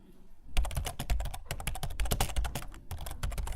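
Fast, steady typing on a computer keyboard, close and clear, with dense irregular key clicks that stop briefly a few times and then resume.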